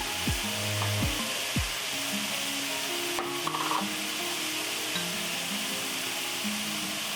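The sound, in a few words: stir-frying kinpira with chili powder in a pan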